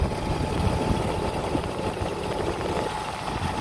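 BMW E39 with an M52 engine running at a steady, close idle during a drive-belt replacement, an even low hum and rattle with no clear rev and no talk.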